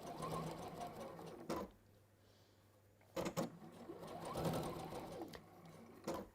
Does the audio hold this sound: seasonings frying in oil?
no